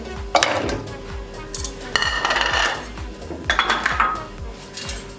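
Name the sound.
adding mutton chops into a pan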